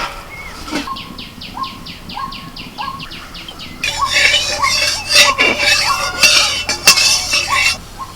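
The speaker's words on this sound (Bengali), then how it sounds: "বাবা পাখিগুলো যে কি ডাকছে যখন" Birds call repeatedly in a rhythmic series of high chirps, then a busier, louder stretch with clattering dishes and more overlapping bird calls.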